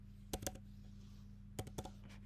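Key presses on a computer keyboard sound as two short bursts of crisp clicks, a few keystrokes each, close and quiet over a faint steady electrical hum.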